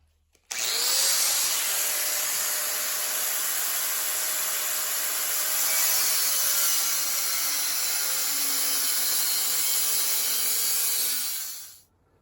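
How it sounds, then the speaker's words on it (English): A power saw cuts square steel tubing to length in a metal shop, one steady, loud, continuous grinding-whine run of about eleven seconds that starts abruptly and winds down at the end, with no talking. "Let's cut this thing to length, and then we're going to bring it to the bandsaw, cut up some smaller pieces."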